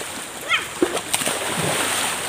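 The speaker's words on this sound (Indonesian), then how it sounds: "Kali ini ikuti anak-anak yang lagi mandi nih." Children splash while bathing in a river at a former gold-mine site beside a palm plantation, with a few quick watery splatters over a steady outdoor hiss and voices calling in the background.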